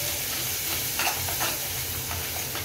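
Spiced potato filling for masala dosa is stirred in a hot pan, a close, constant hiss and sizzle broken by soft scraping strokes of the spoon.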